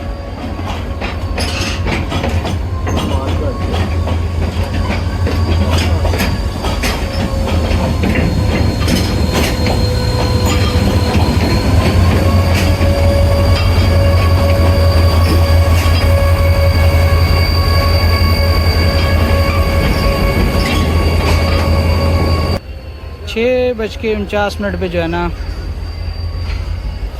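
An express train rolls through Karachi Cantt railway station with a loud, steady rumble and clickety-clack of wheels, plus some squealing. A voice talks over it, and the noise cuts off sharply near the end.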